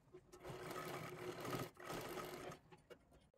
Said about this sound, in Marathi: त्याच्यावरती व्यवस्थित आपल्याला शिलाई मारून घ्यायची आहे